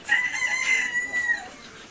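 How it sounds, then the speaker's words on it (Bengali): Chickens cluck nearby while a rooster crows once in a long, wavering call, fairly loud and close. "দেখতে পাচ্ছেন এখানে অনেক জাতের মুরগি রয়েছে।"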